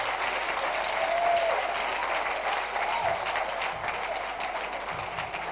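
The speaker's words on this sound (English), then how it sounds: "Clap for him as he comes." A crowd at a live roadshow event applauds a prize winner walking up, with a continuous wash of clapping from many people at moderate loudness, a brief whistle or cheer near the start, and light murmuring beneath.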